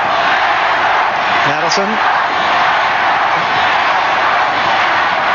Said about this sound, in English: Crowd starting to call for the Panthers for an effort to keep the Broncos out